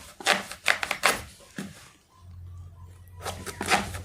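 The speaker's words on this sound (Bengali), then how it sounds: "সারকচু কিনে আনুন, তারপর সারকচুকে এইভাবে কাটুন।" Knife slicing through raw taro root on a board: a few crisp cutting strokes close by, a short pause, then more cuts, with no talking.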